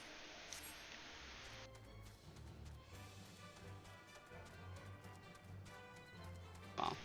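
Faint, rhythmic clip-clop of horse hooves in a video game, a steady quiet pattern of hoofbeats under soft game sounds.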